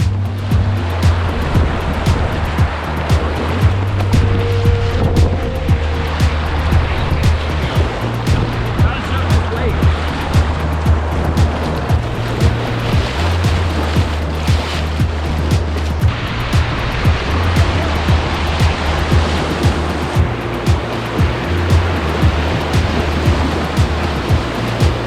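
Broadband rushing river water heard while kayaking on a clear day, a steady, loud wash filling the whole clip with no break, while a low stepped tone drifts underneath.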